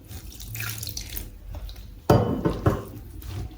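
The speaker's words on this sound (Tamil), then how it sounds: "கொஞ்சமாக தண்ணியை ஊற்றி குழைங்க" Water is poured into a flour mix for omapodi dough, a Diwali snack: a soft rustle first, then a sudden splashing pour about two seconds in, with a couple of trickling bursts close by.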